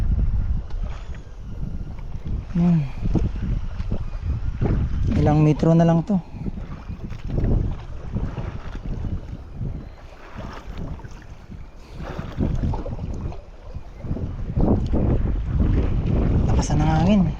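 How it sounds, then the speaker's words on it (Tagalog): Strong southwest monsoon wind buffets a small fishing boat at sea, roaring and gusting into the microphone with water slapping the hull, while people talk over it. "Lakas na ng hangin, habagat."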